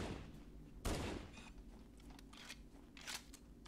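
Halo 2 gunfire in a burst of sharp cracks, one loud blast up front followed by fainter scattered shots and crackling bursts over a low game background.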